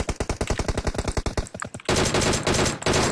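Loud automatic gunfire in a battle royale video game, with a rapid string of evenly spaced shots followed by a dense, continuous burst of overlapping fire.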